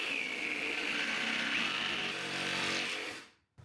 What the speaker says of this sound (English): I think it's called a reciprocating saw. We're gonna try to use it for this corner piece here.